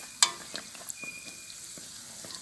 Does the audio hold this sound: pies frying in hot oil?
yes